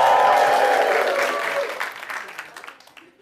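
A live show audience cheers and applauds loudly at first, the crowd noise gradually fading and thinning over a few seconds.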